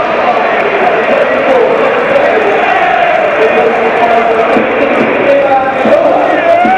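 Portsmouth home crowd at a Championship football match against Leicester City, a dense steady roar of many voices and applause filling the stadium, with commentary talking over it.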